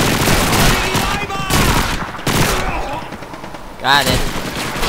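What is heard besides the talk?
suppressing gunfire in video game Call of Duty 2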